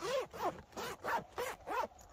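A large zip on a heavy canvas swag with a storm flap is pulled open in five or six quick rasping strokes, close and distinct with a rhythmic scratchy texture.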